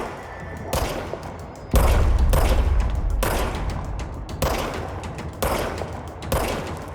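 Gunfire in the Control video game: a loud burst of shots and heavy thuds, then repeated volleys every second or so, close and dense with no talking.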